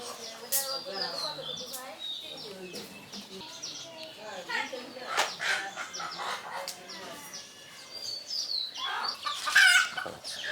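Farm roosters and hens cluck and call repeatedly, with a rooster's crowing rising near the end, amid chatter and voices talking throughout.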